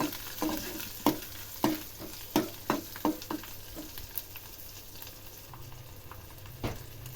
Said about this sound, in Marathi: आता त्याच्यामध्ये मी तीन दोन तीन हिरव्या मिरच्या टाकलेल्या आहे ते सुद्धा चांगला व्यवस्थित परतून घ्यायच्या